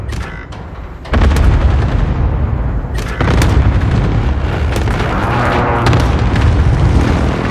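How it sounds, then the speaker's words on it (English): Series of heavy precision airstrike explosions on the Petrov Oil Rig map of a shooter video game, a loud sustained booming barrage with sharp bursts and rumble continuing for several seconds. "Enemy precision airstrike inbound."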